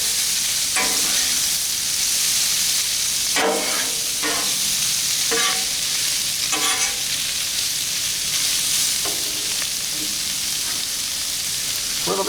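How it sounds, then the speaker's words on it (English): Shrimp and peppers sizzling loudly on a Blackstone griddle with the burners off, steady frying hiss broken by repeated scraping and stirring strokes of a spatula, close and continuous throughout. "Now we're gonna mix the peppers and the shrimp."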